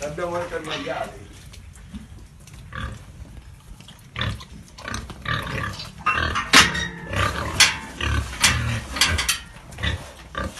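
Pigs on a farm in Sardinia grunt and squeal in repeated loud bursts at close range, with rattling mechanical clanks mixed in, while people talk over and between the animal sounds.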